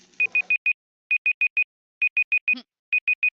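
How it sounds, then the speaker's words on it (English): Sets of short, identical electronic timer beeps at a steady pitch, four to a group, repeating loud and clear with brief pauses between groups, alongside a kitchen where steak is cooking; a short exclamation cuts in once. "It is time. Timer."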